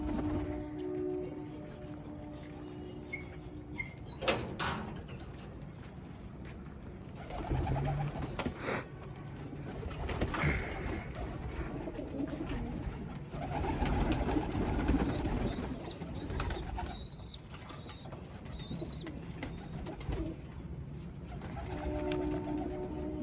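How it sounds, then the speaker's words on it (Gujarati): Pet pigeons released from a home cage coo and call softly, with occasional bursts of wing flapping and rustling as they take off, the sounds fairly quiet against a faint background. "હવે કબૂતર ઉડાડશે"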